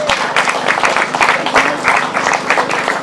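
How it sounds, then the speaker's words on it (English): A crowd at a British grasstrack racing meeting claps loudly for commentator Colin Martin, brisk and uneven hand clapping close by with a slight murmur of voices underneath. "let's have a massive round of applause for Colin Martin"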